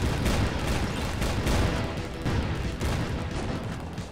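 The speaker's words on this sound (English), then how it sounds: "El Destructo has him in the crosshairs of his basketball cannon" Rapid, loud bursts of cartoon cannon fire from a basketball cannon shooting gumballs, a dense barrage of pops and booms running continuously without a break for several seconds.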